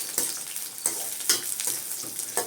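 Onions frying in a pan until brown for vegetable biryani, a steady close sizzle broken by several sharp stirring scrapes spaced roughly half a second apart.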